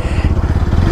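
A motorbike rides along a rough riverbed track, its engine chugging close by in a steady rhythm of low, pulsing beats with some rattle and no talk.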